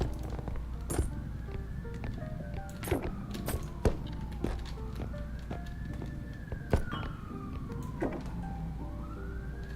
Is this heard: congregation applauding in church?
no